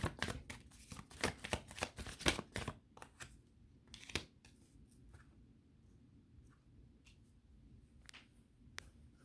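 Tarot cards are shuffled close by, with a quick run of crisp riffling flicks at first, then scattered softer card taps and slides in a quiet room.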